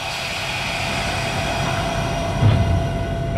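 A high hood diesel locomotive heard from inside the cab, its prime mover out front producing a steady low rumble and broadband mechanical roar, with a brief louder thump near the end.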